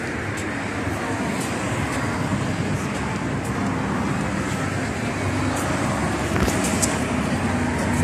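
Steady roar of highway traffic with light, sparse vehicles passing, a continuous broadband wash that swells slightly toward the end.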